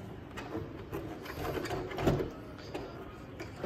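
A sewing machine stitches along a zipper on a boat project, giving a moderately loud, steady mechanical whirring and clatter that runs throughout with a small bump near the middle.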